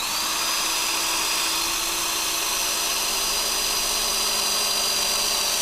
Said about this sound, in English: Now I'm going to use a step drill and a drill.